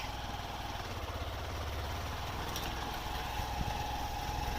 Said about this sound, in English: today I have taken a bike ride with my brother. He is riding the bike.